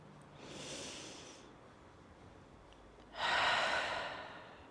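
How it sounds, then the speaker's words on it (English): Two slow, deep breaths, an inhale then a fuller, louder exhale, soft and close with quiet pauses around them. "take a nice deep breath"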